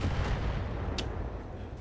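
Long-range missiles fire in the Battletech video game, a dense low rumble of launches and impacts with a brief sharp crack partway through, steady and fairly distant.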